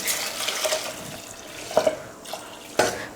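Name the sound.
water poured into a pot of green gram curry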